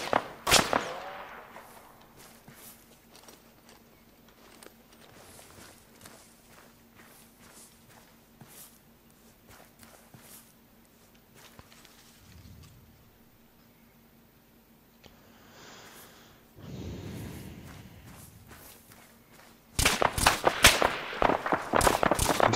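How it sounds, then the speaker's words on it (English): Gunfire in a combat zone comes as a string of sharp, distant pops spread across the stretch, with a quieter gap in the middle and a louder, closer burst of rapid cracks near the end. "Getting fire from northwest."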